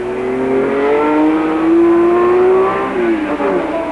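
Ford GT40 race cars racing at Le Mans roar close by, engines climbing in pitch and then easing off as they accelerate, with a whirring tone riding over the steady engine noise.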